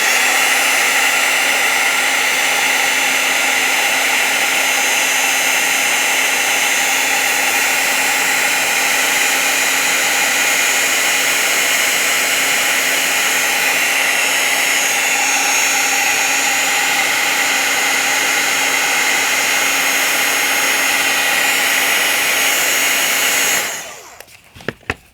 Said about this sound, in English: I'm going to heat this up. It's going to be loud, so you might want to turn down your volume.